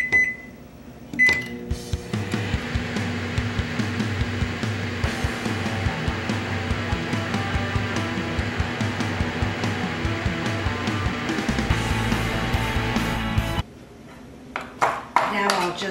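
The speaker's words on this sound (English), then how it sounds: "I'll place this in my microwave for about 30 seconds or until it's nice and smooth and combined." Microwave oven running steadily for about ten seconds while heating a chocolate spread and marshmallow mixture for candy bars, with a beep at the start, kitchen clatter, and talking over the hum.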